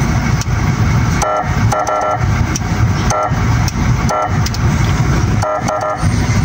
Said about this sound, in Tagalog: Yan busina niya.